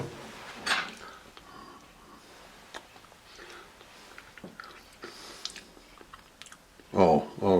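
Someone tastes a spoonful of chicken and wild rice casserole, giving soft chewing and mouth sounds with a louder crunchy burst near the end, amid quiet kitchen background.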